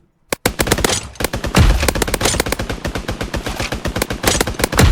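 Automatic weapon fire at the PUBG shooting range, a loud, rapid stream of shots in sustained bursts with short gaps, continuing almost the whole time after a brief quiet start.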